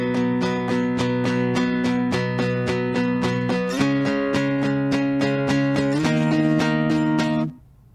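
Acoustic guitar playing the pre-chorus of a song, steady strummed chords in an even rhythm with a chord change midway and another near the end, close and loud, alone without talk, stopping abruptly at the finish.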